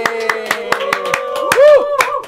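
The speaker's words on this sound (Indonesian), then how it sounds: "tepuk tangan untuk narasumber aku" Clapping for guest speakers at a youth talk event in a diner, with sharp, fairly spaced claps from a small group heard under voices and vocal sounds that carry through the whole moment.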